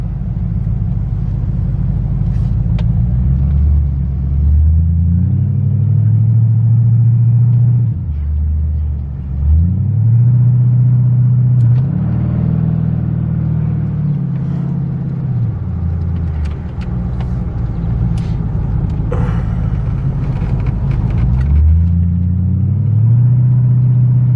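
Engine of a work truck revving repeatedly as the gas is pressed, rising and falling in several loud, close rumbling surges over a steady idle.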